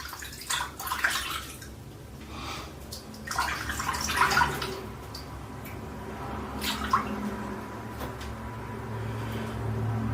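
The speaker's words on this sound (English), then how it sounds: "Let's just rinse that a little bit." A Henson Ti22 safety razor is rinsed under running water, a continuous close stream with a few brighter splashes and drips and no talking.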